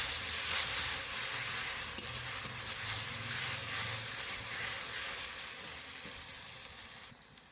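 Chicken with ginger-garlic paste sautés in a pan, a steady close hiss and sizzle with occasional scraping stirs, no voices over it.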